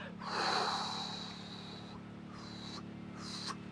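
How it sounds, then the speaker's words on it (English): A forceful breath pushed out through the nose during a breathing meditation, a short close snort-like exhale followed by a few softer, quieter breaths in a hushed room. "So now just exhale out."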